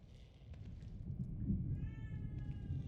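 A cat meows in the video game The Evil Within 2, a few soft cries over a low rumbling game ambience, rising toward the middle and trailing off, with no talk.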